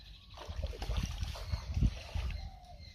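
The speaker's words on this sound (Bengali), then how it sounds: "একটু জল দাও না। অল্প করে, একটু বেশি না" Water is poured in small amounts for washing the face, giving a soft, faint trickling and splashing for a couple of seconds.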